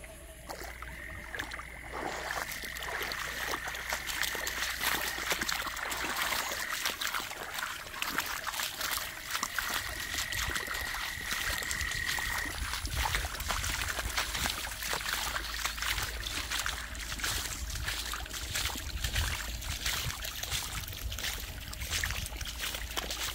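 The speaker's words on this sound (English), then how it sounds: "I can actually hear the river from here." A floodwater river in Freshwater, Hopkins, Belize, heard from a distance as a constant broad rushing wash, with rustling and faint sounds nearby.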